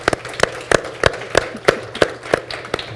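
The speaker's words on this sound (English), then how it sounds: "Lilian Lara, give her a round of applause." A small audience at a live panel on Latinx art gives an artist sparse, evenly paced clapping, with sharp individual claps landing about three times a second.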